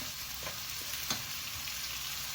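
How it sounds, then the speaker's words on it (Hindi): Mixed vegetables coated in masala fry over high heat, giving a steady dense sizzle throughout with a brief scrape of stirring near the middle; no voices. "हम 3 मिनट तेज़ आंच पर भून लेते हैं"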